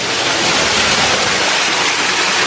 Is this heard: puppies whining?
no